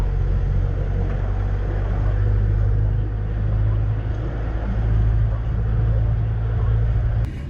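A Tata Nexon driving a lap of Buddh International Circuit, heard as a steady low engine and road rumble from inside the cabin, continuous and even for the whole stretch.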